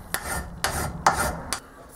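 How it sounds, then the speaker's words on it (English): A hand file rasping across a wooden block in four steady strokes, close and fairly loud, each pass a coarse scraping burst with brief pauses between. "It's amazing just how fast you can take things off just by filing."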